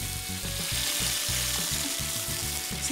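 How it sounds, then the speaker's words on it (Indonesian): Sambal ingredients dropped into hot oil for an Indonesian ayam bakar dish sizzle loudly and steadily up close, with a regular pulsing scrape of stirring running under the hiss. "aku udah panasin minyak. Kemudian masukkan semua bahan sambal."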